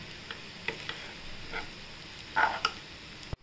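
Roasted peanuts, sesame and coconut powder stirred in a pan for a traditional bitter gourd panchamrut, giving soft scattered scraping and light sizzling clicks, fairly quiet, with no talking.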